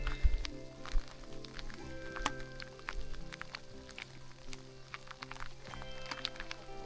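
Heavy rain mixed with small hail falling on a high Himalayan trek, a faint dense patter of drops with scattered sharp ticks and a few louder thumps, steady throughout.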